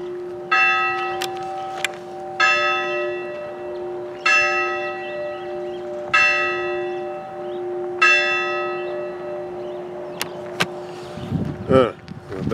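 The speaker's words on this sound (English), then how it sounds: "Church bell, let's wait for the church bell." A church bell in Hanover tolls about five times at slow, even intervals, each ring lingering with a shimmering tail over a steady low hum, ending with some rustling.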